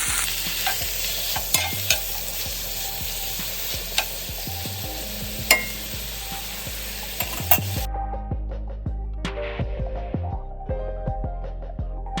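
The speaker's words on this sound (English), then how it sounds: "You're gonna wanna fry these before you make, you know, like the guisado." Sausages fry in a pan for Puerto Rican cooking, rendering fat, with a dense continuous sizzle and periodic sharp scrapes and knocks of a utensil against the pan, close and loud before the hiss thins out toward the end.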